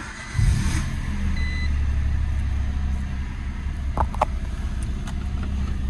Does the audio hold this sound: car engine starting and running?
yes